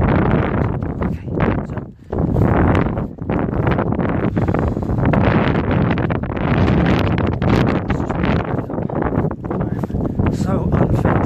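Strong gusts buffet an outdoor microphone at an abandoned ski village in Sheffield, producing loud, rumbling, uneven roaring with only a brief lull.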